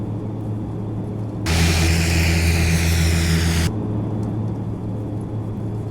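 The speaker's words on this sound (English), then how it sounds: "I'm really hearing those ATR sounds come to life" ATR 72-500 turboprop engines in a flight simulator game, a steady low drone with a loud broadband roar that swells for about two seconds and then drops back to a constant hum.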